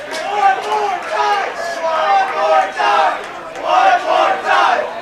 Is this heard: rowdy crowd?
yes